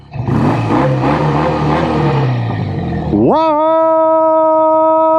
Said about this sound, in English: I think I'm gonna go take another motorcycle out for a ride